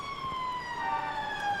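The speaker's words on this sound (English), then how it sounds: "Look, Peter, those police cars are headed towards" A wailing police siren sweeps steadily across the clip, loud and fairly close, with faint road noise beneath it.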